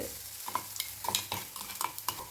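Mustard seeds crackle and pop in hot oil with sharp scattered spatters, close up and alone, with no voices.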